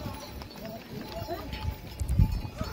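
Horses and mules on the Kedarnath pilgrimage footpath in Uttarakhand, with soft hoof clops and a heavier thud near the end, mixed into busy trail noise and background voices.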